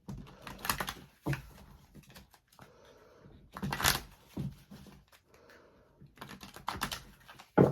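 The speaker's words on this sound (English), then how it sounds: "Let me do some shuffling of the cards here for Sagittarius" Bursts of riffling and flapping tarot card sounds, repeated several times with short quiet gaps between shuffles, close by.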